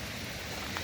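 Rain falling on a mossy, fern-covered forest trail during a hike, a soft continuous patter spread evenly around with no voices, steady and fairly quiet throughout.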